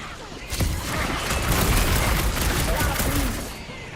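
Dense rapid gunfire in Guardians of the Galaxy, shots fired at a jelly creature in a boss fight, a continuous loud rattling barrage with character voices shouting beneath it.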